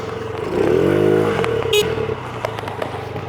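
Motorcycle engine revving up and settling back, loud and close, with a rising-and-falling whine and some clatter. Brief crackles and clicks follow.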